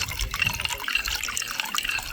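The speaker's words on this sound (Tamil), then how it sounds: "அப்படியே பால் ஊற்றிக்கிட்டே கஸ்டர்டை கிண்டிக்கிட்டே இருக்கணும்." Milk trickles steadily into a pan of custard as it is stirred for a carrot jamun rabdi, a soft continuous liquid pour with faint dripping and light scraping, close and quiet.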